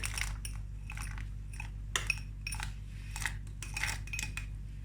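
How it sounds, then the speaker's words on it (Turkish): Manti dumplings are stirred into a yogurt and flour sauce in a pot, with a run of close, irregular metallic spoon clinks and scrapes against the pot and no talking. "Şöyle bir karıştırıyorum üst üste gelmesin."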